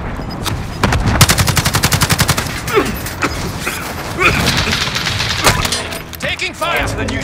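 Gunfire rattles in Call of Duty: Modern Warfare: a rapid automatic burst of evenly spaced shots, then scattered single cracks and impacts, loud and close, with game voices talking over parts of it.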